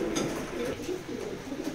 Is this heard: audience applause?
no